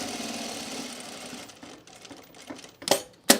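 A sewing machine stitching men's cargo shorts runs in a steady mechanical whir for about a second and a half, then stops and gives way to fabric handling and a couple of sharp clicks.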